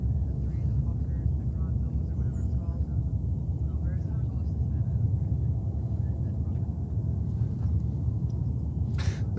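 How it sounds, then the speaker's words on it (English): A JetBlue airliner arriving from Las Vegas at JFK airport rumbles continuously and fairly loud, a deep steady engine roar, with faint voices heard briefly beneath it. "This one JetBlue is coming in from Las Vegas, Nevada."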